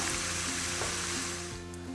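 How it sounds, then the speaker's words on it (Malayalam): Thinly sliced onions frying in a pan for egg dum biryani, giving a steady, moderate sizzle that continues evenly with faint low hum beneath. "ഇത് ഗോൾഡൻ ബ്രൗൺ ആവുന്നവരെ വറുത്തെടുക്കാം."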